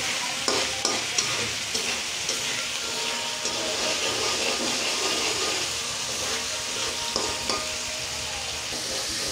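Continuous sizzling of spices frying for a pigeon meat curry, with repeated scraping strokes of a spoon stirring the pan close up.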